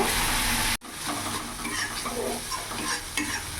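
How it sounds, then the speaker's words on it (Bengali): Spice paste of cumin and Kashmiri chili powder with a splash of water frying in a pan, a steady loud sizzle with stirring scrapes after a brief cut. "মশলাটা একটু ভাজা ভাজা করে নেব।"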